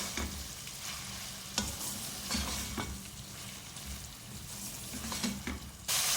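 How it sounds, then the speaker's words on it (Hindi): Qeema stir-fried with garlic ginger paste, turmeric, red chili powder and crushed red chili, giving a steady close sizzle broken by several sharp scrapes of a spoon against the pan. "भूनेंगे इसको।"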